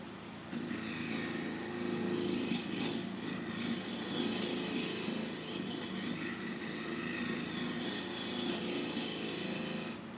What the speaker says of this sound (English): I've got my scraper here now.